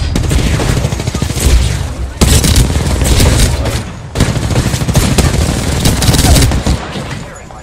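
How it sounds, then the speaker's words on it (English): Gunfire in the video game Apex Legends, dense bursts of rapid shots and booming impacts going on almost without a break, loud and close. "somebody shot me from cave"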